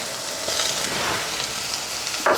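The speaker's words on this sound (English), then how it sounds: "Saute that until I can start smelling the aroma of the garlic." Garlic sautéing with tomatoes and vegetables in a pan makes a steady, close, broadband sizzle and crackle that holds at an even level throughout, with a brief louder scrape near the end and no talking.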